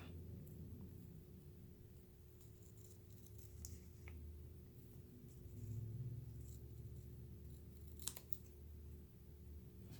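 Scissors trimming paper in a craft session, soft intermittent snips and rustles over a low hum, with a couple of sharper cuts near the end.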